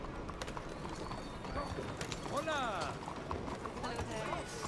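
Galloping horse hooves in Red Dead Redemption 2, a quick muffled beat mixed under game ambience, with a short horse whinny near the middle.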